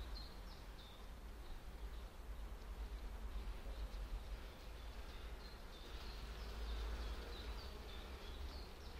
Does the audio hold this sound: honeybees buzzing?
yes